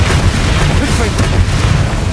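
A Confringo explosive spell goes off in Hogwarts Legacy, a loud, dense booming burst that fills the short moment with rumbling low energy and crackle.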